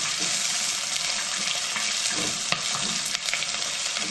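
Food frying in a pan gives a loud, continuous sizzle and crackle, with occasional stirring scrapes and pops breaking through the steady hiss.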